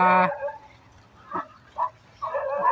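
Dogs near beachside cottages bark in a few short, separate yips and woofs at moderate distance, with quiet gaps between them.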